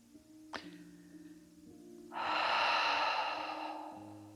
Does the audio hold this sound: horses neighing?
no